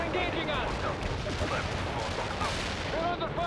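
Dense battlefield gunfire and artillery in World in Conflict: continuous crackling shots and heavy booms overlapping throughout, with voices calling out amid the combat.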